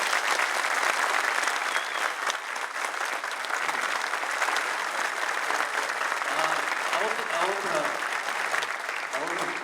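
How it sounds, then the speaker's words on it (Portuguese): A seated audience gives a sustained round of clapping in tribute to an actor, dense and even for nearly ten seconds, with a few voices rising faintly toward the end. "Por favor, gente, vamos aplaudir o Vinícius."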